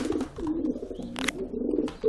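Sport pigeons cooing while fighting over territory in a loft: continuous low, throaty rolling coos repeating in pulses, close and fairly loud, with a brief flutter or scuffle midway and no talk.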